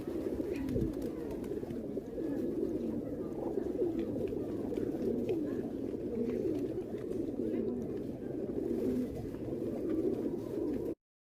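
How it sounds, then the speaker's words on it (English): Wild pigeons coo in soft, low, repeated calls that run steadily throughout, fairly close, with faint background noise and no talk. "So these are the sounds of the pigeon. These are the wild pigeons."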